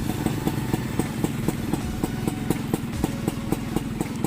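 A kick-started Vespa scooter engine runs close by in a fast, even putter with a rhythmic mechanical clatter, steady throughout.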